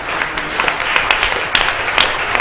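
A church congregation claps and cheers during worship, with lively, uneven clapping and scattered voices at moderate loudness.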